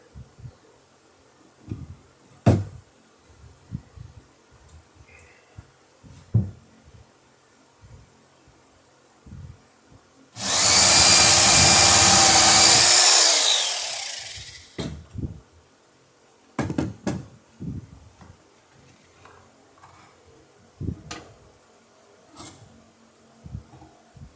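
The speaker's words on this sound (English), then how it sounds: "these screws are just going through pines, so I'm actually not even needing to use the bit brace" Power drill driving screws into pine for a cuddy cupboard: one loud whirring burst of about four seconds that winds down at the end, set among quieter knocks and handling noises.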